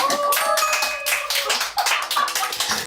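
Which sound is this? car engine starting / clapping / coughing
clapping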